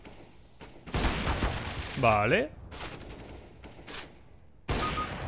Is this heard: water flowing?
no